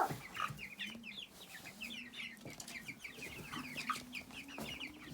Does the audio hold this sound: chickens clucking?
yes